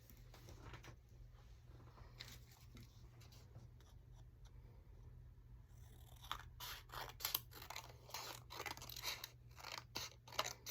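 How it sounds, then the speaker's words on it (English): Scissors snip through a piece of paper during a wallet papercraft project, first with soft scattered clicks, then a rapid close run of sharp cuts in the second half, with no talking. "Let me cut a piece of this paper here."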